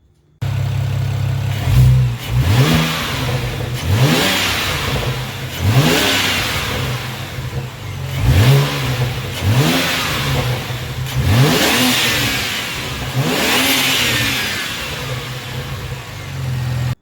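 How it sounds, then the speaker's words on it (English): A BMW E90 335i with the N54 twin-turbo engine and a VRSF dual cone intake idles, then revs repeatedly in about seven sharp blips, each rising and falling with audible turbo spool and intake whoosh, close and loud. "you can hear the turbos spooling more audibly"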